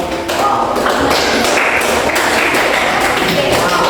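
A classroom group applauds during a coaching and supervision lesson, with dense, steady clapping that stays close and loud throughout and fills the room without a break.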